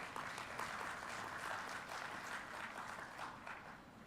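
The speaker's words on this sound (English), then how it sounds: "they deserve a big round of applause for all that they say" Audience at a national conference on good governance practices gives sustained applause of many hands clapping, heard from some distance, fairly faint and steady throughout.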